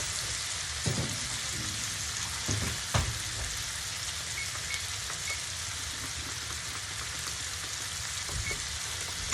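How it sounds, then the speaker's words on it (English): Sausages sizzling in a pan alongside a searing pork roast, a steady crackling hiss throughout with a few louder pops and spatters, close and alone with no talking. "my sausages are cooking up nicely"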